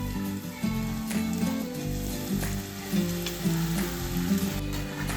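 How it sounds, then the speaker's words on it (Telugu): Diamond-shaped spicy biscuits deep frying in hot oil, a steady, close crackling sizzle with bursts of bubbling and occasional stirring, no voices. "డైమండ్ షేప్లో కట్ చేసుకున్న బిస్కెట్లని నూనెలో వేసి వేయించుకోవాలి"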